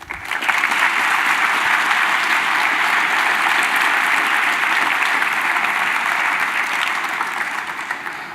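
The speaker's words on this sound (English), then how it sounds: "let's give all of our scholars one more round of applause" Sustained, loud audience applause for scholars at a Ronald Reagan Presidential Foundation program, a dense, even round of clapping that holds steady for several seconds before tapering slightly at the end.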